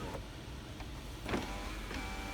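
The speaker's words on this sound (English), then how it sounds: "Show you the operation of the moonroof." Moonroof motor on a 2006 Toyota 4Runner V8 Limited whirs faintly and steadily for a couple of seconds, ending in a few soft clunks as the glass moves and stops.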